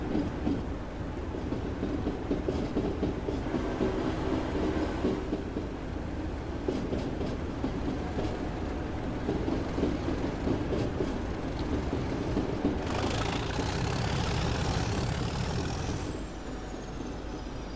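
Class 37 diesel locomotive in Train Sim 2021 on a Durham colliery line, a steady loud engine drone with rolling rail clatter throughout, swelling brighter and harsher near the end as the engine is opened up to full power.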